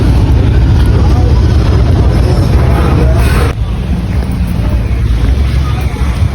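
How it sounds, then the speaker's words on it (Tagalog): A boat ride on open water in Thailand, with a steady loud rumble of engine and rushing water buffeted by wind against the microphone, easing slightly partway through. "Sakay na naman sa barko."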